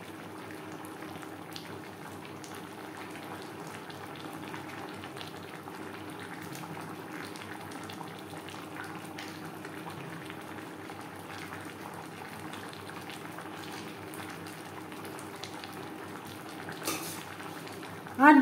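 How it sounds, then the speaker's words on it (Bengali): Bhetki fish bones simmer in a spiced gravy for a Bengali katar chorchori, giving a steady, soft bubbling hiss that runs evenly throughout, with a brief louder clatter at the very end. "4-5 মিনিট গ্রেভির সাথে মাছের কাটা বেশ ভালো করে ফুটিয়ে নেওয়ার পর"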